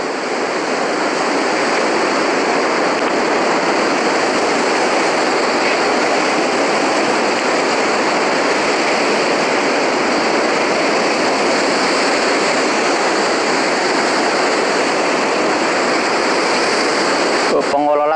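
Large ocean waves surge in a steady, loud broadband roar that fills the whole stretch without a break, heard close and continuous as constant surf washing in.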